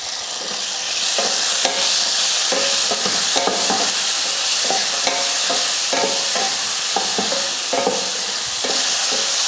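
Tomatoes sauté in a pan for an anchovy fish curry, a steady loud sizzle broken by repeated scraping stirs through the whole stretch.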